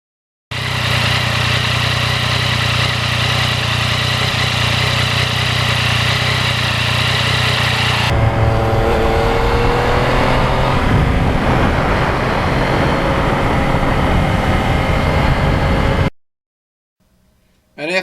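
Yamaha MT-09 motorcycle from 2020 under way, a loud steady engine drone that changes pitch partway through as it shifts gears, continuous for about fifteen seconds before cutting out abruptly.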